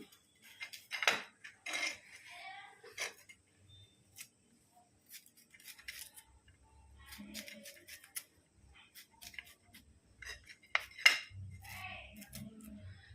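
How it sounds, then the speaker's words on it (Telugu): Crisp slicing of a bitter gourd into rounds on a bonti blade, irregular cuts with small clinks, quiet and close, with pauses between strokes. "ఇప్పుడు కాకరకాయలు అయితే నేను కత్తిపీటతో కోస్తున్నా"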